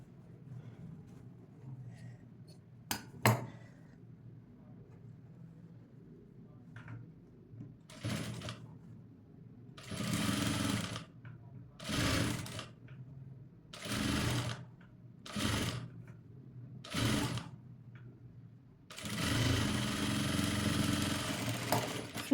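A sewing machine stitches a cutwork blouse piece in bursts, several short rattling runs and then one longer run. There are brief clicks and handling sounds between the runs, and a faint voice comes in now and then.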